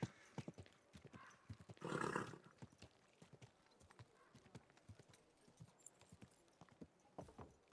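A horse's hooves clip-clop in an irregular walking rhythm in the medieval game Kingdom Come: Deliverance II, with a brief snort or whinny partway through, close but fairly quiet.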